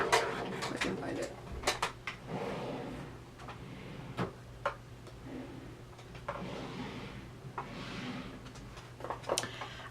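Drawers are pulled open and rummaged through during a makeup search, giving scattered clacks, knocks and rattles of items shifting, close by over a steady low hum, with a faint murmur of voice in places.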